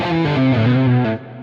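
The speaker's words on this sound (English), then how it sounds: "When they're playing riffs that include hammer-ons and pull-offs, especially on the lower strings, they once again get a lot of string noise like that." Heavily distorted electric guitar riff on the lower strings with hammer-ons and pull-offs on a low-action setup, sustained overdriven notes sliding between pitches with string noise, loud and close for about a second before cutting off.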